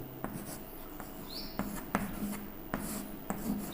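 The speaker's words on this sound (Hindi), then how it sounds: "तो हम लिखते हैं सोहत" Handwriting strokes from a pen or chalk writing out a line of Hindi verse during a poetry lesson; short scratchy strokes come in an uneven rhythm, close and fairly quiet, with no talking.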